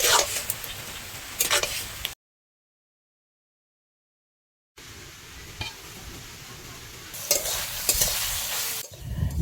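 Spices fry in a pan with a continuous sizzle and bursts of stirring and scraping, cut by a stretch of silence before the frying and stirring resume.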